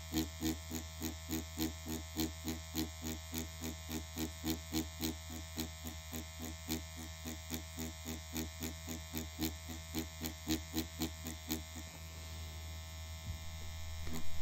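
A permanent makeup needle machine buzzes steadily during a whipping stroke for powder brows, pulsing in a fast regular rhythm close up, then settling into a smoother hum near the end.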